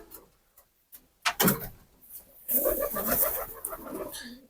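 A young pigeon, likely female, gives soft, low cooing calls close by, mixed with rustling and scuffling sounds.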